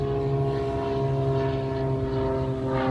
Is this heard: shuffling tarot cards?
no